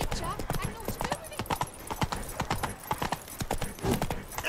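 Horse hooves clip-clop at a steady walking pace in The Witcher video game, close and moderately loud, mixed under a voice speaking throughout.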